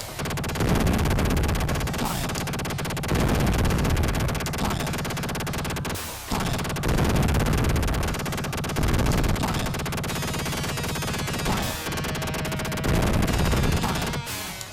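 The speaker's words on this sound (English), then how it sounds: "Oh, I'm shooting stuff." Shooting in the Sega Megadrive G-LOC flight game, dense, loud rapid-fire blasts repeating in long bursts over a continuous engine-like game drone, with brief gaps between volleys.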